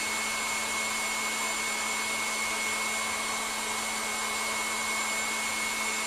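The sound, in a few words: electric mixer whisking mixture to stiff peaks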